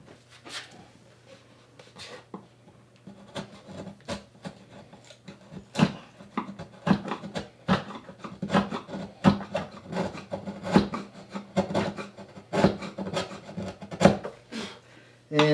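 Sharp chisel shaving a wooden shim on an acoustic guitar neck during a neck reset, a series of close, scratchy scraping strokes that grow louder and more frequent, with faint workshop hum beneath.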